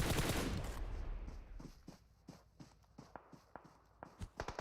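Scattered gunshots in PUBG Mobile striking a BTR armored vehicle, sparse faint shots after a loud opening burst, spaced irregularly and growing a little denser toward the end.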